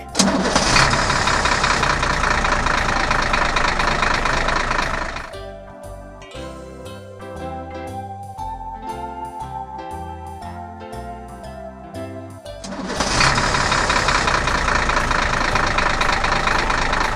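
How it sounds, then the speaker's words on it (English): A gravel truck engine starts with a loud broadband roar and idles, fades under a jingly music tune in the middle, then roars back up. No one speaks. "Gravel truck."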